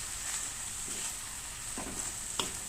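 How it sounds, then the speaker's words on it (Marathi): A spoon stirs mashed roasted brinjal pulp in a hot pan for Khandeshi bharit, steady sizzling with a few soft scraping strokes close by. "हा गर असा आपल्याला इथे चांगला चालवून घ्यायचा आहे"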